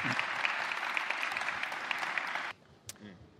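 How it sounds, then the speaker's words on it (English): An audience claps in a steady, moderately loud round of applause that stops abruptly after about two and a half seconds, leaving a quiet room with a faint stray sound. "Give him a round of applause."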